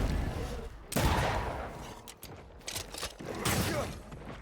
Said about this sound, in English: I think I heard the sound of a gun cocking.